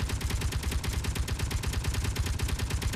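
Rapid, unbroken turret gunfire from the Modular Ships video game: dense bursts of shots stacked tightly together at a steady, loud level for the whole stretch, with no talk.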